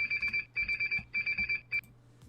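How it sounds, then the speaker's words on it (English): A small timer alarm rings in rapid bursts of shrill electronic beeps, grouped in clusters of four with short pauses between, loud and close, then stops. "that was my little timer"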